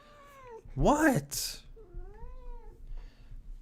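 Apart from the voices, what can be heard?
pet cat meowing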